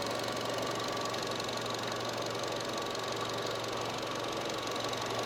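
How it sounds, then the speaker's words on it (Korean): A Chevrolet Cruze (Amazing New Cruze) with a 1.4 engine idles in its open engine bay, giving a steady, fairly loud mechanical drone with a low hum and a faint ticking texture, unbroken and with no voices. "엔진 소리 한번 들려드리겠습니다."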